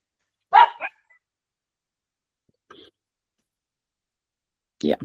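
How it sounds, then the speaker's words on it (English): Beagles bark indoors in a few short, sharp bursts separated by silence, one loud yelp early, a faint one midway and another loud bark at the end. "One of the dogs agrees. the beagles are like they're crying"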